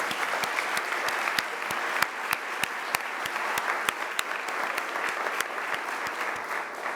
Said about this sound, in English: please join me again in giving him a round of applause